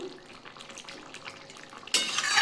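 Papaya and potato curry with prawns being turned in a pan, soft scraping and shuffling strokes at low level, then a louder hiss of frying rising abruptly near the end.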